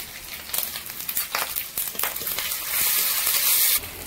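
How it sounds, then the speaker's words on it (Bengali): Ginger paste dropped into a hot pan for a jackfruit and prawn curry, with a burst of sizzling and crackling that swells louder near the end, close by and with no talk. "এবার আদা বাটাটা দিয়ে দিচ্ছি।"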